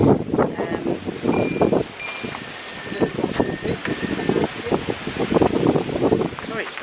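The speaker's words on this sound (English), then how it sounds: "Sorry, it's very windy here today." Gusty wind buffets the microphone outdoors in England in bursts of rumbling noise, mixed with a voice talking throughout.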